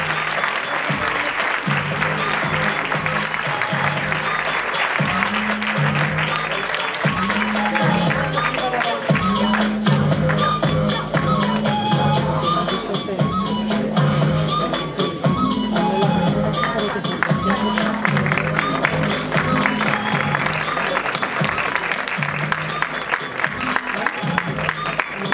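A hall audience at a women's council inter-association event claps steadily for a painting prize winner, the broad, dense applause running unbroken for about twenty-five seconds over a low, tonal musical background.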